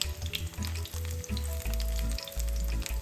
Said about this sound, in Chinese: 在底下煎至定型后，就可翻面了